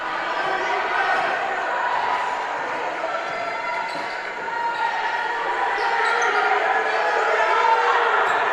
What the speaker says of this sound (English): you can hear some of the displeasure from the crowd as well